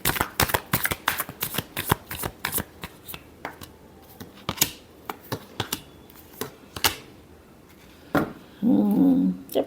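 Tarot cards are shuffled up close in quick runs of crisp riffling clicks and slaps, spaced with short pauses, and end in a louder, dense flurry of shuffling.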